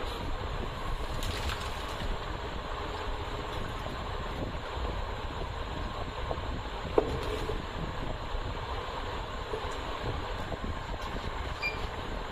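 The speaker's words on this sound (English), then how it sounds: "So purging is always done at a highest speed, that is 600 rpm always." A WG600F peristaltic pump purging at its top speed of 600 rpm gives a steady, dense mechanical rumble and whir that runs unchanged throughout, with one faint click near the middle.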